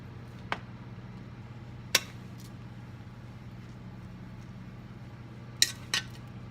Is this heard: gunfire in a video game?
no